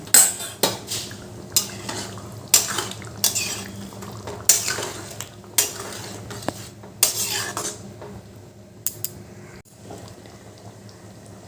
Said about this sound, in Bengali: এবার ঘি গরম মশলাটা ভালো করে মিশিয়ে দেবো